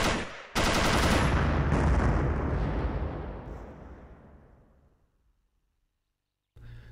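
Field artillery shells landing on an enemy position: a heavy blast erupts, then a deep, rumbling roar swells and slowly fades over several seconds, with a further thud starting at the very end.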